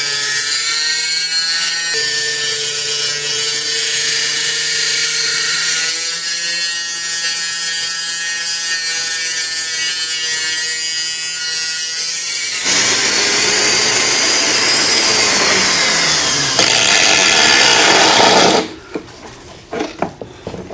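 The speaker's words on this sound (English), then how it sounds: "Once you start cutting a groove fairly deep, it goes pretty quick." A rotary tool grinds a groove into a steel gear on a Ford T5 five-speed gearbox, a loud, steady high-pitched whine with shifting pitch that runs continuously, then cuts off near the end into a few small clatters.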